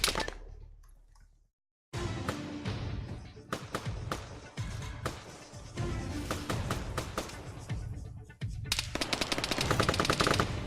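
Rapid automatic rifle and machine-gun bursts crackle in an Arma 3 military shooter battle, dense and continuous after a brief silent gap, with overlapping shots at varying distances.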